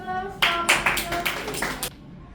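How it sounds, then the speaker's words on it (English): A small class claps briefly after a student presentation, a short patter of a few hands lasting under two seconds, with a voice audible before it. "Give applause"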